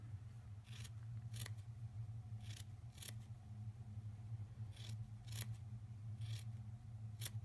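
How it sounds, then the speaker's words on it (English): Scissors snip the fabric petals of a stitched spring flower, cutting them thinner. Soft, short clicks come in loose pairs over a low steady hum, quiet and close, with no voices. "Just go back in and cut the petals a little bit more."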